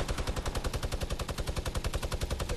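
Rapid automatic gunfire in the video game Fortnite, a dense continuous stream of loud, evenly spaced shots filling the whole moment without pause.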